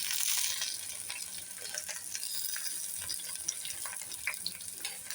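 Chopped onion and finely chopped tomato sauté in a pan, a steady close sizzle with soft scraping and light crackles throughout, no voices.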